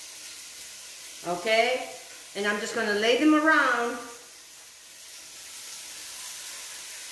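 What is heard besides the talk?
quail sizzling in a pan with bacon drippings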